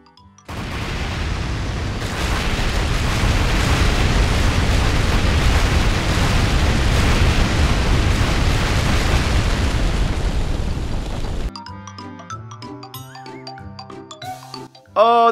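A long continuous rumble of many overlapping explosions booms in the video game Minecraft, loud and sustained for about eleven seconds, then cuts to bright chiming game music.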